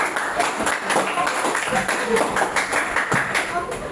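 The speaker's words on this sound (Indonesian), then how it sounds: "Mari kita berikan tepukan dulu untuk berdiri semangat." A group claps together in a steady burst of applause at a scout knot-tying session, dense and fairly loud throughout, with voices faintly mixed in.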